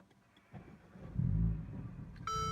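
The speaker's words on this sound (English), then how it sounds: "let us start up the car" A 2018 Mercedes-Benz CLA 45 AMG cranks and fires, a low rumble swelling over about a second and settling into a steady idle, followed by a bright electronic chime tone from inside the car.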